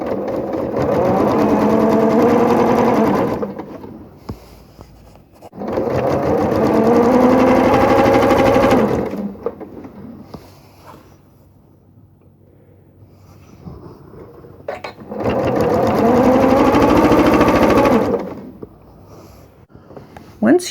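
Sewing machine running three long bursts of steady rapid stitching along the edge of quilt-as-you-go fabric, close and loud, with quiet pauses between runs.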